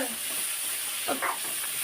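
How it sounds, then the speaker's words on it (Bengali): Turmeric and other spices sizzle and are stirred in a pan for a spinach dish, a steady close hiss with a couple of brief scraping stirs. "এই সব মশলা ভালোভাবে কষে নেব"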